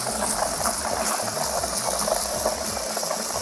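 A water jet blasts into a plastic bucket of runny car wash shampoo to foam it, a loud continuous gushing and bubbling churn that stays steady throughout with no talking.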